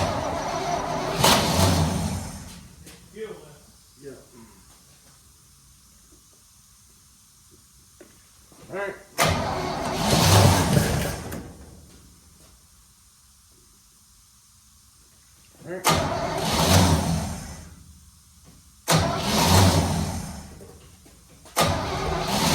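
A 1972 Chevrolet C10 pickup engine cranks and catches in repeated loud bursts, four separate start attempts each roaring briefly before dropping away, with quieter gaps and a few faint voices between them.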